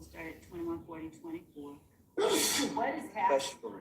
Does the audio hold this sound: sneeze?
yes